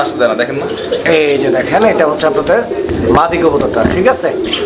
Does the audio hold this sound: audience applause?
no